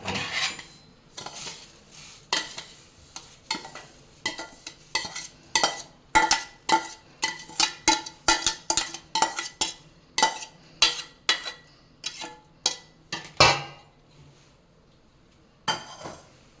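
A spoon scrapes and clinks against a pan as cashews and raisins are stirred into roasting rava for rava laddu, a steady run of sharp metallic taps and scrapes that grows busier before trailing off.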